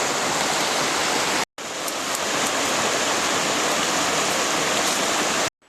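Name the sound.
small waterfall on hiking trail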